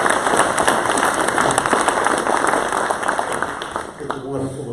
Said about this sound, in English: I think probably just a round of applause for the Chamber of Commerce itself